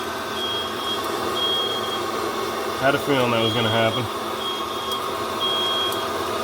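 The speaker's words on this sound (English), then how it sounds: "And there goes the smoke alarm." A shrill smoke alarm, set off during home roasting of Ethiopian Sidamo natural-process coffee beans, beeps repeatedly at an even pace against a steady hum, while a person talks briefly over it.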